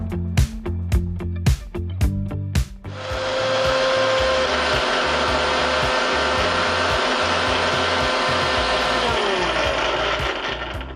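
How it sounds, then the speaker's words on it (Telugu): A mixer grinder blending oranges gives a few sharp clicks and short pulses before it starts up into a loud, steady whirring drone that continues to the end. "Okay, mixie పట్టేద్దాం."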